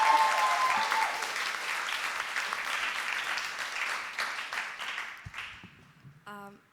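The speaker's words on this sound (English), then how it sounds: "Big round of applause for Zara." An audience at a poetry slam applauds warmly, a dense wash of clapping that gradually tapers off, with a brief voice starting up right at the end.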